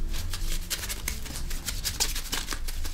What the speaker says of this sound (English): So I just shuffle the cards here, okay?